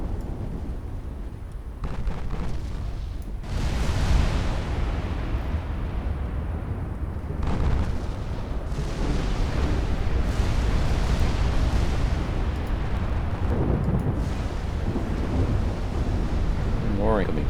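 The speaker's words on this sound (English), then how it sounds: "More incoming fire" Incoming shell fire in a naval strategy game set in a 1958 Norwegian campaign, against a battleship and heavy cruisers: repeated deep, rumbling explosions roll like thunder over a windy roar, with a voice heard among them.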